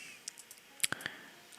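A few light, crisp clicks of a mouse or keys at a desk during work in animation software, faint and close, scattered over about a second with one sharper click standing out, no talk.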